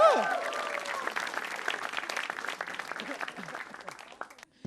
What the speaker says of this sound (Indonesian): Heri, tepuk tangan dong.